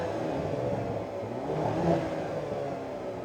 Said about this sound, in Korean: 그 다음으로는 이 차의 배기 사운드입니다.